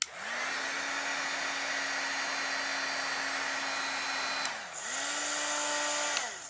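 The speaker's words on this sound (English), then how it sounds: "And here is the sound from the Wagner." A Wagner heat embossing tool blows with a steady, loud whirring hiss, switched off briefly and then started again with a rising motor whine.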